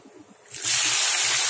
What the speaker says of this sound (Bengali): দিয়ে ফোড়নটা একটু ভেজে নিচ্ছি।